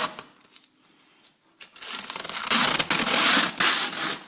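A protective plastic film is peeled off a freshly installed sump guard on a Mark 1 Mini, a quiet start and then a loud, sustained crinkling rip with crackling bursts.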